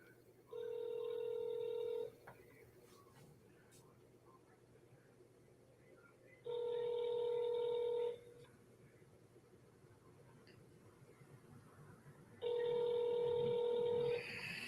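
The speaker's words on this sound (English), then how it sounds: "I'm calling Michael right now" Outgoing telephone call ringing back three times: long, steady electronic ring tones in even pairs separated by pauses, clear and alone over a low background hum.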